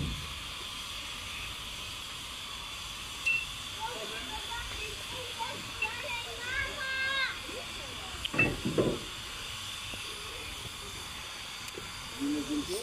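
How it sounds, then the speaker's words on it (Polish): A BORSIG Bn2t steam locomotive, Lowa, runs on a narrow-gauge park railway with a constant soft hiss of steam in the distance, under faint chatter and a few scattered knocks. "Tam już właśnie jedzie parowóz lowa."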